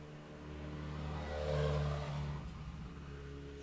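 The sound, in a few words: motorbike going fast past open window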